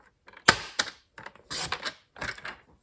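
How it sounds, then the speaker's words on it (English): Paper trimmer slicing card for a pillow box gift holder, a few short close scraping cuts and clicks in quick bursts separated by brief silences. "I'm going to cut off those bottom legs of the pillar box."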